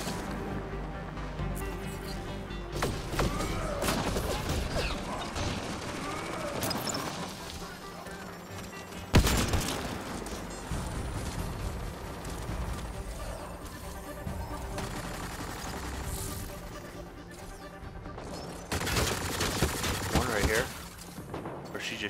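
Gunfire in the video game Mass Effect Andromeda pelts a vehicle in repeated bursts and sharp impacts amid steady engine and ambient game noise, with a voice speaking at moments.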